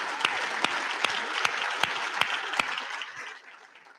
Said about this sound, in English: Let's give Avelo Airlines a big Brownsville welcome and round of applause.